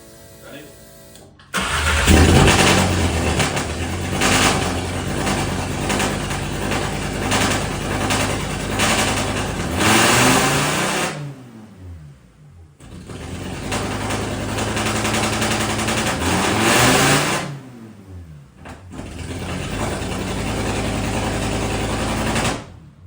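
A 2.5L five-cylinder 07K engine swapped into an MK1 VW Rabbit cranks, fires and revs loudly up close, with rising throttle blips, a brief drop, then revving again, while people talk over it.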